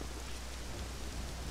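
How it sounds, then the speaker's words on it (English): Steady rain falling in The Legend of Zelda: Ocarina of Time, a soft continuous broadband hiss with a low rumble beneath, even and unbroken throughout, with no voices over it. "You know, it's raining out."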